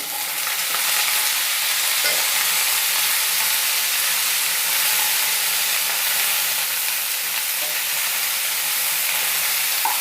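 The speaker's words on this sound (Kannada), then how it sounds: "ಹೂಕೋಸನ್ನು ನಾನು ಸ್ವಲ್ಪ ಫ್ರೈ ಮಾಡ್ಕೊತೀನಿ" Cauliflower frying in a pan after being taken out of hot water, a loud, dense and continuous hissing sizzle close up, steady throughout with no speech.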